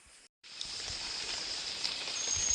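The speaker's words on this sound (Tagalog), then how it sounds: "Ngayon papunta na tayo dito sa palayan at umuulan ngayon." Rain falling steadily over an open rice field, a soft continuous hiss that swells slightly louder toward the end after a brief dropout near the start.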